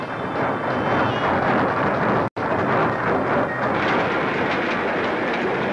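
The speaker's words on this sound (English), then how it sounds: "The train's slowing down. We're going up a steep hill, Chi-Chi." A cartoon steam train labors up a steep hill, its dense chugging and rattling churning steadily with one abrupt cut partway through, loud and close with no voices over it.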